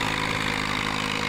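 A tractor engine idles in Farming Simulator 19, a steady, even drone with a low rhythmic pulse, loud and unbroken throughout.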